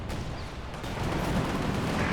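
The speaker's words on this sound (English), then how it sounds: "Good cannon with a hit there." Cannon fire and battle explosions from the Company of Heroes 2 real-time strategy game, a dense, loud rumbling barrage of booms and gunfire continuing without pause.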